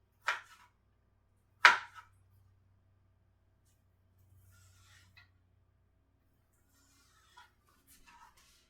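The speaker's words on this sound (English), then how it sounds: "Nearly done chopping this up" A knife finely dicing chicken breast on a cutting board: two sharp, fairly close chops, followed by a few much fainter taps and scrapes, with no talking.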